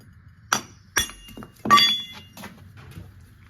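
Bolts being hammered, a few sharp metallic clinks and knocks struck irregularly, close and loud with short ringing between blows.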